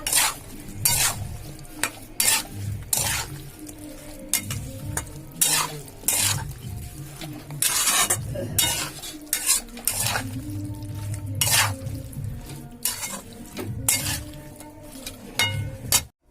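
Mixed fish being stirred with raw mustard oil in a metal bowl or pan, repeated clinks and scrapes of a utensil in an uneven rhythm over a soft wet sizzle.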